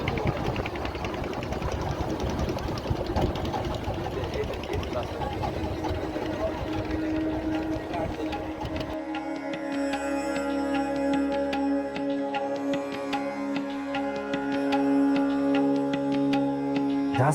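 A small trawler's engine chugs steadily and close by, a dense low mechanical drone that shifts partway through to a smoother steady hum with a pronounced tonal throb, continuing unbroken to the end.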